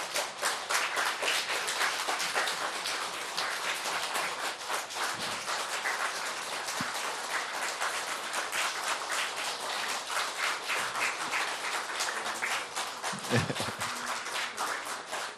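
Sustained, steady audience clapping fills a graduation service at a Baptist seminary in Seoul as the graduates process out, even and continuous throughout with a few faint thumps underneath.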